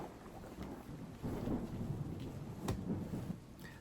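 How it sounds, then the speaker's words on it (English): A low rumble of thunder rolls through steady rain, a muffled, moderately distant boom swelling over a few seconds with no voices. "Thunder."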